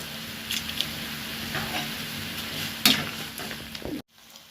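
Dried red chilli and cumin sizzle in hot oil for tempering, a steady soft crackle with a brief sharper pop near the end before it cuts to near silence.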